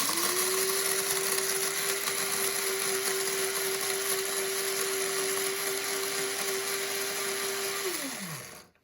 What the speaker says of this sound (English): We're gonna grind it up in the old trusty grinder.